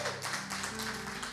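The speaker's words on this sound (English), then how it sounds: "give a round of applause for the 50 days milestone" A church audience applauding a 50-day milestone during Pastor Kevin's talk, a dense, steady wash of many hands clapping together, fairly distant and continuous for the whole moment.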